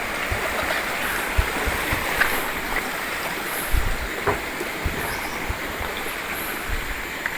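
Water pours steadily over a small dam that feeds a hydram water pump, a continuous broadband rush with faint splashes, close and alone without voices.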